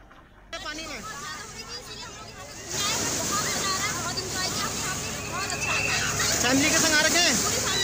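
People bathe and play at a waterfall in Uttarakhand, with splashing water and a broad crowd babble under steady rushing flow, growing louder midway and staying busy to the end.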